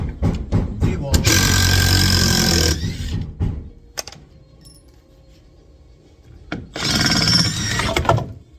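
A DeWalt impact driver runs in two loud, close bursts of a couple of seconds each, with a quiet pause between them and brief voices and clicks around them.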